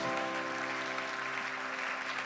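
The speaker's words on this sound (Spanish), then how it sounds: "Denle un fuerte aplauso al Espíritu Santo de Dios." A church congregation applauds in a steady, continuous wash of clapping, with sustained musical tones droning underneath throughout.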